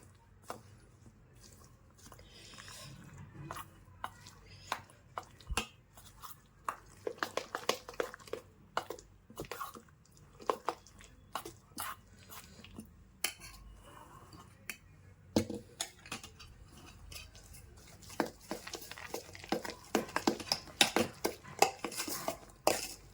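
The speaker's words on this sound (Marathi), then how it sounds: "त्यानंतर काय करू आपण हे मिश्रण चांगलं हलवून घेऊ" A spoon stirs lentil appe batter in a bowl, giving repeated wet clinks and scrapes against the bowl in quick irregular bursts that grow busier toward the end, close and without talk.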